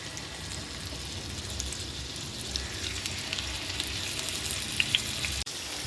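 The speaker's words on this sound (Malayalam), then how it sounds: "ഇവിടെ ഞാൻ ഫ്രൈ ചെയ്തുകൊണ്ടിരിക്കുകയാണ്, ചിക്കൻ ഫ്രൈ ചെയ്തുകൊണ്ടിരിക്കുകയാണ്." Bone-in chicken frying in butter in a pan gives a soft, even sizzle with light crackles and a few sharp pops near the end before it cuts off abruptly.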